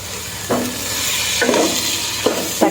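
A spoon stirs chopped tomatoes into onions sautéing in a pan for chicken biryani, with several distinct scraping strokes over a continuous soft sizzle, close by.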